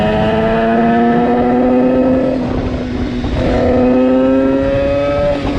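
Sherco SMRS motorcycle ridden at an easy pace, its engine droning loud and close with a steady pitch that dips slightly then climbs again.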